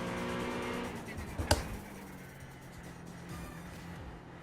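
LMP2 and GTP prototype race cars passing at Watkins Glen, a continuous droning engine roar heard from inside a car, with a brief sharp mechanical spike partway through.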